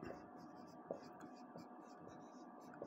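Pen or marker scratches across paper or a board in short, regular strokes, close and quiet, with soft talking faintly underneath.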